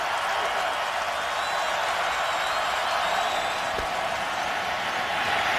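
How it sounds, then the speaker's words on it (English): A sellout football crowd roars steadily and loudly, on its feet as Cincinnati faces third and 10 at midfield against the Tennessee Titans in 2011, a continuous dense cheer throughout with no clear voices above it. "Now this sellout crowd on its feet with Cincinnati looking at a 3rd and 10 at midfield."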